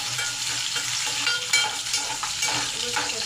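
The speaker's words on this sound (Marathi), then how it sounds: "कांदा व्यवस्थित टाकून भाजून घ्यायचा." Onions fry and sizzle in a pan for a Kaju Masala curry, a loud, dense hiss with scraping stir strokes and small crackles, close and continuous with no speech.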